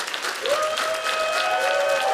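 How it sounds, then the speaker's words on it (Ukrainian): Sustained applause from a television talent show audience at a final, steady and loud, with a held musical tone running underneath. "Гучніші ваші оплески."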